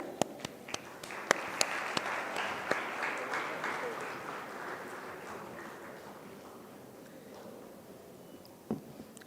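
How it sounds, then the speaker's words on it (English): An audience applauding panelists at a design week panel discussion at Karnavati University in Ahmedabad: a sustained wash of many hands clapping, with sharper individual claps standing out, slowly fading over several seconds. "Ladies and gentlemen, taaliyan basti rehni chahiye for our amazing panelists today."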